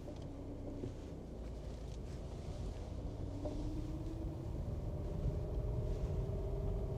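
A 1990 Mercedes W124 on winter tires cruises down the road, heard from inside as a steady low engine drone and road rumble with soft wind noise, quiet and unbroken.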